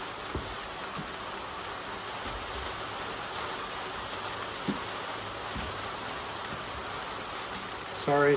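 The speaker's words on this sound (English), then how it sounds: "Sorry, it's starting to rain." Outdoors, rain patters as a steady soft hiss with scattered drops landing close by, and a brief thump at the very end.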